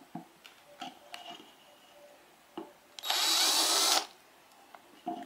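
A Cheston 10mm cordless drill whirs in one loud burst of about a second, close by, amid a few scattered clicks and taps.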